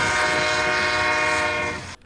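A loud, sustained train horn blares steadily close by for nearly two seconds, its layered harmonic tones holding a flat chord before cutting off abruptly.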